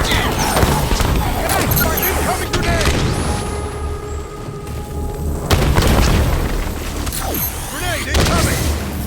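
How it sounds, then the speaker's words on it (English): In Halo 5: Guardians combat, loud booming blasts and crashing impacts roll through a busy battle soundscape, with heavy thuds recurring near the start, middle and end. "Incoming grenade!"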